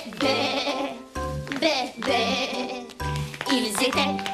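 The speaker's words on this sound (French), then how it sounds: "des millions de moutons" Sheep bleat repeatedly in a cartoon farm scene, several loud, wavering cries following one another in quick succession, up close with no pauses of silence between calls.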